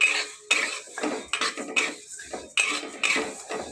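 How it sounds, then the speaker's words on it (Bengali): A spatula scrapes and clinks against a pan as mung dal is dry-roasted over a medium flame, coming in separate sharp strokes roughly every half second with short quiet gaps between, close and fairly loud, with no talking. "মিডিয়াম ফ্লেম করে মুগ ডালটাকে ভেজে নেব।"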